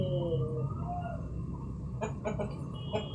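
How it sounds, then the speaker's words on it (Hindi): Aseel chickens cluck and call at a zoo enclosure, with a few short, moderately close clucks and a brief cluster of sharp calls near the end over steady background noise. "असील मुर्गियाँ, बहुत अच्छी नस्ल की।"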